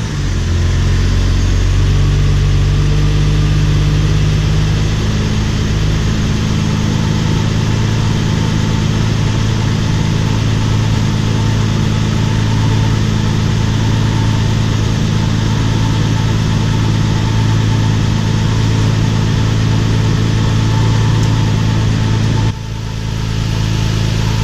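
A race car engine, freshly fitted with a vacuum hose, idles loudly in a home garage with a steady, throbbing low rumble and a faint belt whine, holding evenly for over twenty seconds with a brief dip near the end.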